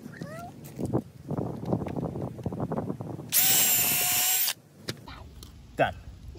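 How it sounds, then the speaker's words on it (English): A power drill bores a hole into soft wood for a raised garden bed. The drilling comes as one loud, high whine lasting just over a second, after a stretch of talking and light handling noises. "So I'll be back once I drill a hole right here."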